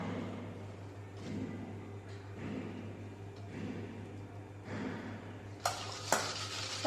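Young coconut chiffon cake batter being stirred after oil is added, with soft rhythmic scraping strokes about once a second, quiet and close, ending with a couple of light clinks.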